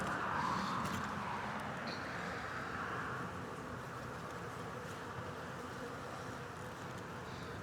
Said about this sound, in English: there's actually a lot of bees in here